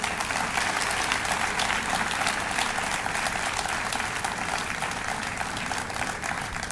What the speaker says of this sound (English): another round of applause should be due